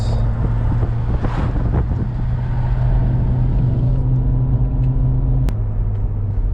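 A Mercedes W124 driving slowly after a suspension rebuild with the alignment off, heard from inside as a steady low engine drone and road rumble with wind noise, the pitch dropping slightly near the end.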